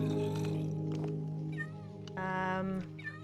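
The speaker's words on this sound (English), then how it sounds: "I guess the cats have decided to take over the Haunted Mansion." Cats in Minecraft meow repeatedly, several close, clear mews in a row over a steady game background, with no talk over them.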